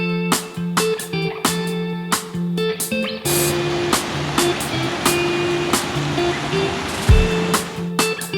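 A river rushes beside a mountain trekking trail in the Alay Mountains of Kyrgyzstan, a steady broadband roar that swells up after a few seconds of sharper clicking and tonal sounds and then stays continuous and fairly close.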